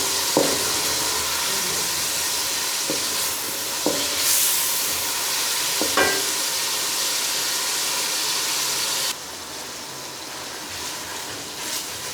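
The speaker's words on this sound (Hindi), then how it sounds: "अब इसमें टमाटर ऐड करते हैं। टमाटर को उस वक्त तक पकाएंगे जब तक हमारे टमाटर सॉफ्ट ना हो जाए" Tomatoes cook in a pan for masoor dal with a steady close sizzle and hiss, broken by a few sharp scraping knocks as they are stirred; the sizzle quiets slightly near the end.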